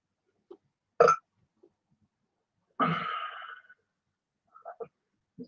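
Burps from a gassy pig: a short grunt-like burst, then a longer, rougher belch near the middle, followed by a few faint short bursts, close and fairly quiet against silence.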